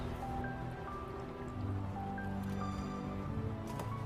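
Soy sauce splashed over cooked fish fillets in a kitchen, giving a steady wet drizzle and patter with small drips, continuous and close, with a faint tonal kitchen hum underneath.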